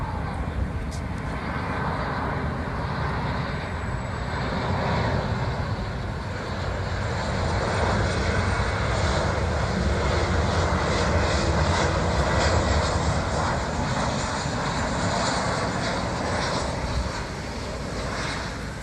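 A passenger plane takes off from a nearby airport in Muscat, Oman, its engine roar a steady, broad rumble that holds at a constant loud level throughout, with no talk over it.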